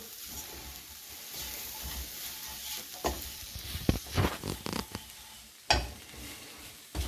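Veal pieces dusted with about three spoonfuls of flour cook in a pan for a veal Marengo sauté, giving a soft steady sizzle broken by several louder scraping and stirring clatters; no voices.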